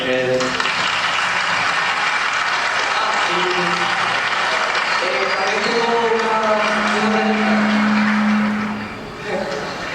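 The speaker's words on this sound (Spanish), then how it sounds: "un aplauso para ustedes porque es fascinante" Sustained, loud applause from an audience at a talk on Doñana and dance fills the whole stretch, with voices audible underneath before it tapers off near the end.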